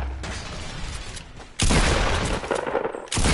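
Gunfire bursts in a video game duos match: a sustained rattle of shots, then a sudden louder close burst that hammers on before cutting off and resuming.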